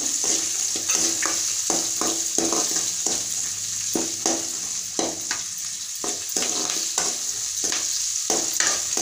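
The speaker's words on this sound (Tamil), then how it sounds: "வெங்காயத்தையும் போட்டுக்கோங்க, கருவேப்பிலை" Onions and curry leaves frying in a pan for rava kichadi, a steady sizzle throughout with repeated stirring scrapes of a utensil against the pan, close and moderately loud, no talking.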